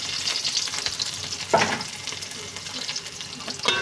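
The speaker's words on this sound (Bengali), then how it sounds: "তেলের মধ্যে দিয়ে দিলাম পেঁয়াজ কুচি এবং রসুন কুচি।" Chopped onion and garlic frying in hot mustard oil in a large kadai, a continuous close sizzle with two louder scraping stirs, no talking.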